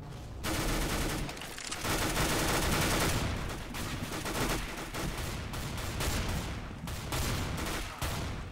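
Dense, rapid gunfire from Counter-Strike: Global Offensive in Gun Game mode: loud, continuous bursts of automatic shots with brief gaps, filling the whole stretch without any talking.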